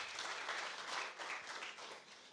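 Steady applause from a conference audience at a product launch event, a fairly close, even patter of many hands lasting a couple of seconds with no voices.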